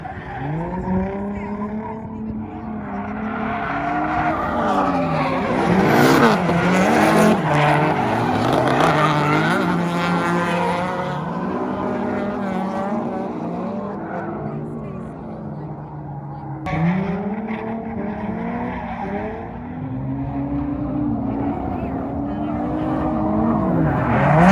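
A car drifting on the sand dunes at Glamis, its engine revving and tires squealing and skidding in long sweeping runs, fairly close and loud with some voices mixed in.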